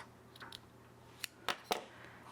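Scissors snip close to the mic in a few sharp, separate cuts near the end of a quiet moment, after faint handling rustles, with no speech.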